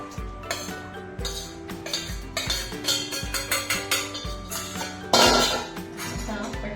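A sesame seed mixture with dried coconut gets tipped into a pan and stirred for sesame sweets, a spoon clinking and scraping against the metal in quick repeated strokes, loud and close, with a heavier clatter midway.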